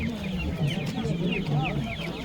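Chickens and a rooster cluck at a busy poultry bazaar, with repeated clucks and short calls rising over a murmur of background chatter.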